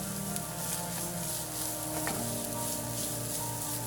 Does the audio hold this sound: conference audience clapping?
no